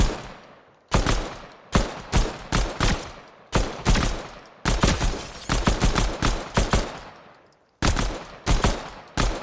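Pistol fired at long range in a looter shooter video game, loud sharp shots in quick bursts of several rounds, separated by brief pauses, with no talk.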